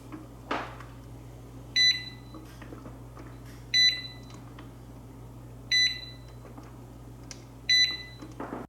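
Presto digital pressure canner giving four short, bright electronic beeps at even intervals, close by, over a low steady hum.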